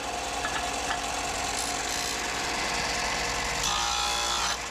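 A Woodskil disc belt sander grinds metal with a continuous abrasive rasp over a steady motor hum, the scraping tone shifting as the workpiece is pressed against it.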